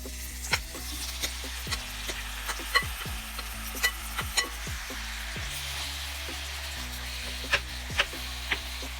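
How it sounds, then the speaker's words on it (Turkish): Marinated bulgogi meat and onions sizzle and fry steadily in hot oil, with occasional scraping and stirring clicks from a utensil nearby. "kızan yağın içine yavaşça döküp pişirmeye başlıyoruz"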